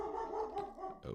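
A dog in the background gives a drawn-out whiny bark or howl, moderately quiet and continuous, ending with a couple of short yips.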